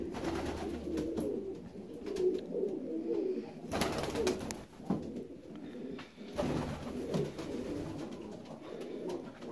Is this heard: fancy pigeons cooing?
yes